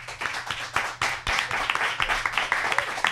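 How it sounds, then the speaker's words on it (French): An audience claps for two arriving guests, a dense burst of applause from a room full of people that stays steady for a few seconds, with a voice faintly heard under it. "Je vous demanderai de les applaudir"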